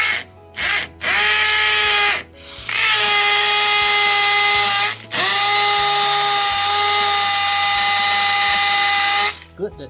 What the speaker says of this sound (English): I have a masonry drill bit that is slightly narrower. This is a 6mm drill bit, so we'll drill.